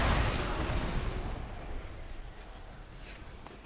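Explosion in the video game World of Warcraft, a single booming blast that hits loud at once and then fades into a rumbling tail over a few seconds.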